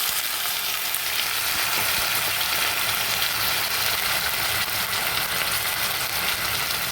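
Potatoes added to hot oil with cumin seeds sizzle continuously on high heat, a dense, close, even hiss and crackle with no pauses and no voices.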